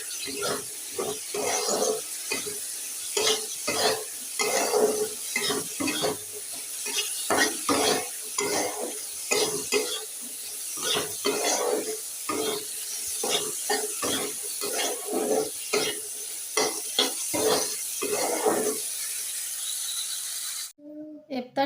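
Chickpeas cooking down in a pan with a little liquid are stirred in quick, rhythmic scraping strokes over a soft sizzle, close and repeated, with a faint voice now and then.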